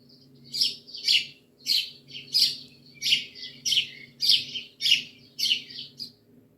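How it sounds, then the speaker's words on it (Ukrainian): A house sparrow chirps in a steady series of about ten bright, evenly spaced chirps, some doubled, over a faint low hum. "Маленька сіра пташка скрізь літає, усюди заглядає, чив-чив-чив співає."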